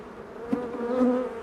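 Honeybees buzz steadily around an open hive as frames go back in during an inspection. The drone is close and continuous, with a couple of louder passes.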